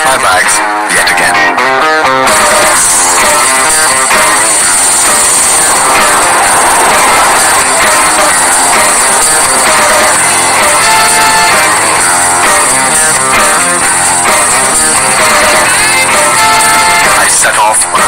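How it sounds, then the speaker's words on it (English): A loud, continuous rumble of a train rolling along rails in Odisha, India, with dense rattling and metallic clatter throughout, and faint voices mixed in. "I set off on a train journey that I had been craving for."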